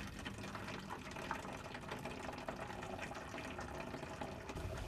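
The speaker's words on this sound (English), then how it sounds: "Take some boiling water and pour it into a plastic bottle using a funnel." Boiling water poured through a funnel into a plastic bottle makes a faint, steady, hollow trickle and gurgle that runs unbroken for several seconds, with no voices over it.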